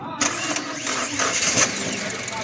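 An overhauled engine cranks and starts on a weak battery, the starter whirring into a running engine that holds a steady mid-pitched drone with a few surges, while a person talks over it.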